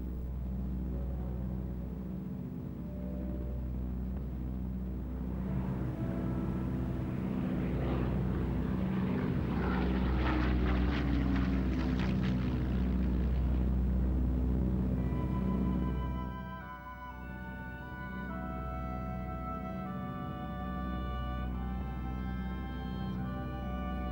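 Propeller planes fly a fuel airlift. Their engines drone steadily, swell into a loud roar as one passes close overhead, and then fall back to a steady hum.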